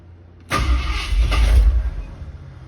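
A Ford Torino's starter motor cranks the engine in one loud, close burst lasting about a second and a half, then the starter gear kicks out and the sound fades into a low rumble.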